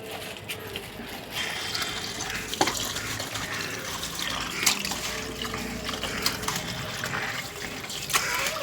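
Water runs steadily from a tap as fish is washed in a home kitchen, a continuous splashing hiss with a few brief louder splashes and no talk.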